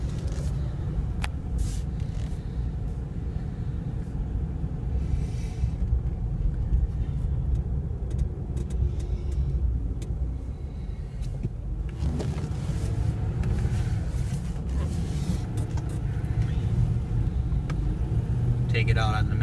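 A 2011 Ford Crown Victoria Police Interceptor with 133k miles drives on a road, its engine and tire rumble a steady low drone throughout, with a brief shift in tone midway as it gets up to speed.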